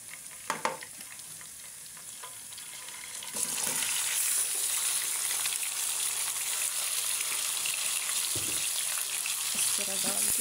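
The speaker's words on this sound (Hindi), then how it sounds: "इसको अभी अच्छे से फ्राई कर लूँगी।" Chicken pieces hit hot oil in a pan for a biryani, with a steady, loud sizzle that swells after a few light clinks and stirring sounds and then holds evenly to the end.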